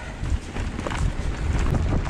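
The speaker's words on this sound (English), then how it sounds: "It's very windy." Strong wind buffets the microphone on an exposed mountain bike trail at Afan in chilly weather, producing a continuous rough roar with gusty surges and no talking.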